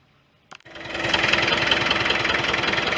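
A 1973 International loader tractor engine starts up after a short quiet lead-in and settles into a steady, close, rumbling idle with a dense mechanical knock throughout.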